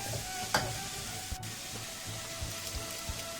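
Finely chopped onion with rock salt sautéing in hot oil after tempered spices for a prawn masala, a steady soft sizzle with faint crackles and the occasional scrape of stirring, quiet and close.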